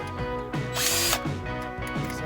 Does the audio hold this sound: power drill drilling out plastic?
yes